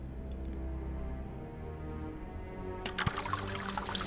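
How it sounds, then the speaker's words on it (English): Water poured to wet a rag in The Raven, a short splashing pour arriving suddenly near the end after a quiet stretch of low ambient hum. "But let's do this and wet the rag."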